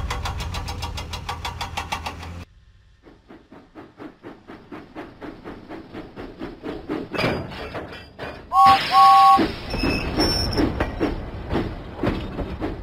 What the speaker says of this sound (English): James pumped his pistons and puffed out of the docks.